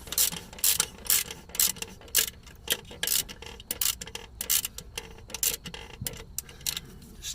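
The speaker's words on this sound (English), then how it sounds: "So I'm going to go ahead and finish tightening up the tensioner." A ratchet wrench clicks in quick repeated bursts while tightening the belt tensioner on a 2000 Honda Accord 2.3 L, close and loud, with no voices.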